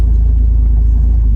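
A car engine idles steadily after warming up, a low, even rumble running continuously at close range with no talk over it.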